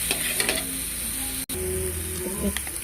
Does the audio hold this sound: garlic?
yes